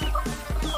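Katuranggan Sisik Naga chickens clucking in a coop: several short clucks and calls close by in under a second, with no one speaking.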